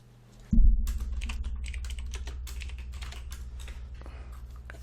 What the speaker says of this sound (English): basically just going to be hearing us typing on the keyboard